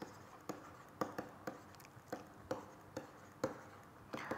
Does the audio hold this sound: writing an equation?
yes